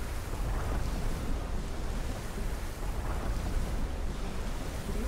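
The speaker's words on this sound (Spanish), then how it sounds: "Creo que es agua lo que suena" Rushing water in Uncharted 2, a broad, steady roar like surf or a torrent mixed with wind, loud and continuous without pauses or voices.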